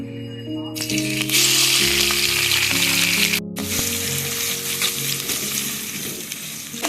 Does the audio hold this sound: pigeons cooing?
no